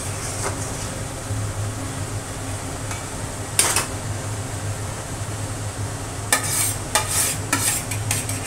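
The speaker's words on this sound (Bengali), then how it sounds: "এইবার দিয়ে দিচ্ছি এই পমফ্রেট মাছগুলো।" Pomfret fish cook in a simmering curry sauce, giving a steady sizzle and bubbling hiss. Occasional clinks and scrapes of stirring utensils sound close by, with no talk.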